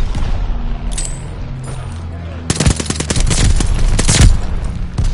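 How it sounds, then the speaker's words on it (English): Gunfire from a called-in bombing run in a video game erupts in loud, rapid bursts that grow heavier and denser halfway through, with booming impacts over a steady game backdrop. "Teammate called a bombing run."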